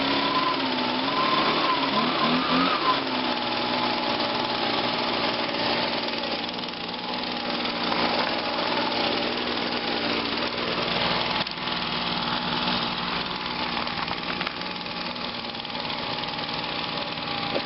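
A Pontiac Grand Am GT engine idles steadily just after a cold start at 17°F, a constant close rumble with a faint whine early on, holding an even loud level throughout with no talk.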